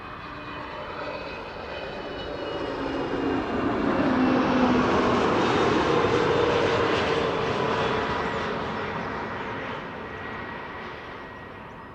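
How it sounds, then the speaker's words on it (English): An SAS Airbus A320neo arriving from Oslo at Amsterdam Schiphol makes a steady jet roar that swells as it nears overhead, peaks mid-pass, then slowly fades as it moves away. "this is another SAS A320neo, flight 821, arriving from Oslo"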